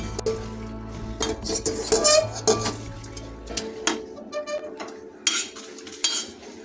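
Boiled gourd leaves for lau pata bharta being lifted out of a wok into another pot, with close scattered clinks and scrapes of a utensil against metal cookware.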